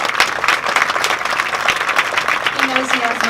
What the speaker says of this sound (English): Just give another round of applause for Mayor Garcetti